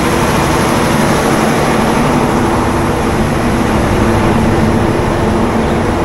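A WAP-4 electric locomotive hauling the Rupasi Bangla Express from Santragachi to Purulia, a loud continuous roar of motors and wheels that holds steady throughout with no pauses.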